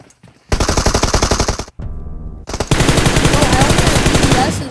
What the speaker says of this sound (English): Why are y'all shooting my crate